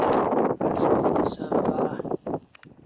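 Gusty wind buffets the microphone outdoors beside the upper lake at Llyn Dulyn, a loud, rough rumble that surges and drops in uneven bursts.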